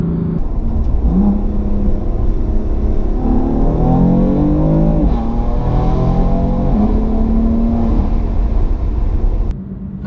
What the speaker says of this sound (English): This is a stock exhaust, don't forget